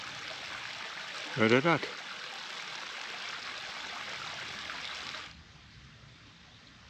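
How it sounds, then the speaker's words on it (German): A small stream babbling beside a cycling route around the Große Dhünntalsperre reservoir, a faint, steady trickle and splash running throughout, briefly interrupted by a short spoken question before quieting near the end. "Und es plätschert so schön hier."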